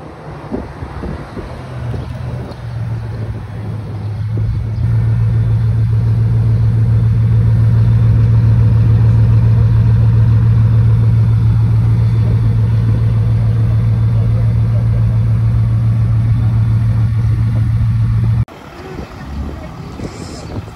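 A Ferrari Roma approaches on a road, its engine rising into a loud, steady drone that holds for several seconds before cutting off abruptly, with wind buffeting the microphone.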